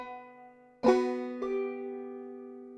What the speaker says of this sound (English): So that section sounds like this.